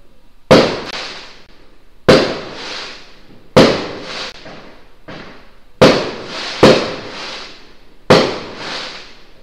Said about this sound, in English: Yes, there are firecrackers right outside my window, which is open because it's warm today